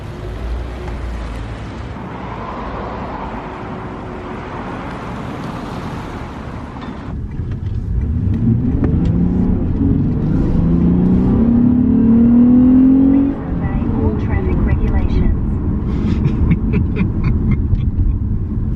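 A Lexus RC350 coupe drives along, its engine rising in a smooth revving sweep over steady road and wind rumble, loud and close from inside the cabin with no talking.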